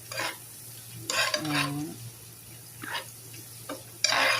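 Aromatics being stirred in a frying pan for a fish dish, with intermittent scraping strokes over a soft sizzle, short bursts separated by quieter gaps.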